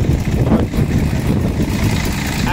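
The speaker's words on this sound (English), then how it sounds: "I spoke too soon about the wind." Strong wind in a city street in Aberdeen, Scotland, makes a loud, steady, low roaring rush that buffets the microphone throughout.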